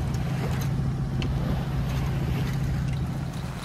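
A sailboat motors on its inboard engine at sea, with a steady, droning low rumble, plus wind and water hiss, constant and close with no pauses.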